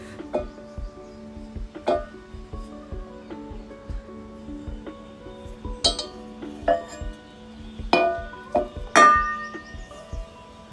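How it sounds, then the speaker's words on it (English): Glass and plastic containers clink and tap together in sporadic, light knocks, with a few sharper ringing glass hits, close and fairly quiet. "I'm using a plastic container that come with food packaging and a glass jar."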